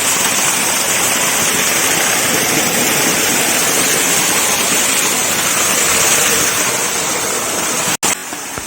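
Spring water gushes steadily out of the ground near a village temple in the hills, a continuous close rushing and splashing hiss with no break except one brief cut near the end.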